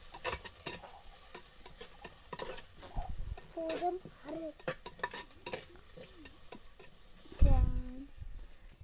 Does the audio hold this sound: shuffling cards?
no